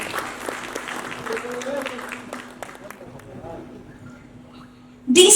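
An audience claps at a film pre-release event honouring composer Harris Jayaraj. The clapping is fairly soft and fades under a steady hum, and a loud burst of sound comes at the very end.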